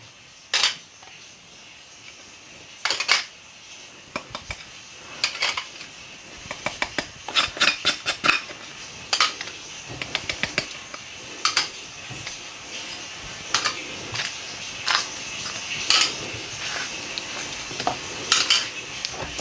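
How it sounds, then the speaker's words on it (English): Ingredients and spices for Lucknowi-style shami kebabs are tipped and scraped into a bowl, giving scattered sharp clinks and taps of utensils against dishes, irregular and close over a quiet background with no talking. "we're going to transfer all the ingredients into a bowl along with all the spices"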